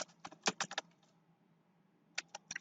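Quick clicking keystrokes on a computer keyboard come in short bursts, a cluster of close taps followed by a pause and then a few more clicks, quiet and crisp.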